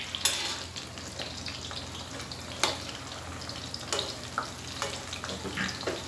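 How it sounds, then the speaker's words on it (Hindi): Barule frying in a pan, stirred now and then: steady crackling sizzle with sharp scraping clicks of the spoon at irregular intervals, close and fairly quiet, no voices. "तब तक हम चला लेंगे हमारे बरूलों को, इन्हें बीच बीच में चलाते रहें"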